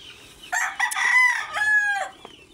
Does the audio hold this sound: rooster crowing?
yes